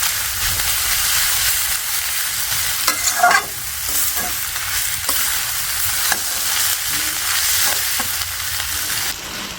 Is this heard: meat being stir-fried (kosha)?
yes